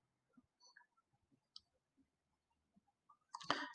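Mouse clicks on a computer while setting up a Java project, a few faint, sparse ticks in a quiet room, followed by a louder, busier burst of sound at the end.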